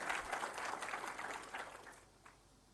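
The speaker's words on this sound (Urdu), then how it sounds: "بہت ساری تالیاں ہونی چاہیے" Audience at the launching ceremony of the Prime Minister's Youth Sports Initiative in Pakistan claps, a soft, distant-sounding applause that holds for about two seconds before fading to quiet.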